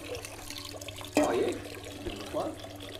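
Water from an overland vehicle's drinking-water filtration system spills onto the ground: a sudden splash, a second smaller splash, then a trickle over a low outdoor background.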